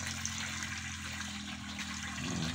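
Hand-pumped well water poured out for pigeons, a steady close rush and splash of water running throughout with no talk.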